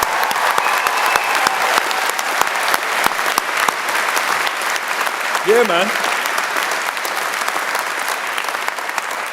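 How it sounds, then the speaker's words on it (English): A large crowd at a university graduation ceremony claps in sustained, dense applause throughout, with a brief voice and a short whooping call rising above the clapping partway through. "Let's give everyone, family and friends, a massive round of applause for all their support."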